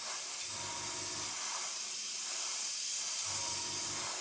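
Airbrush paint spraying for a weathered jet finish, two separate short hissing bursts with a pause between them, close and steady.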